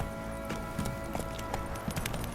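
Hoofbeats of Roach, Geralt's horse in The Witcher 3, clopping at a steady running rhythm over a soft game ambience, moderately close and fairly quiet.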